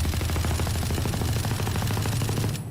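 Rapid automatic gunfire from a crouched spray in Valorant, a tactical shooter game, with a continuous, loud, close burst of shots that cuts off sharply near the end.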